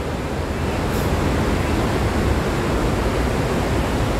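A deep, continuous roar of rushing water fills the scene, loud and unbroken, like a powerful flow heard from close by.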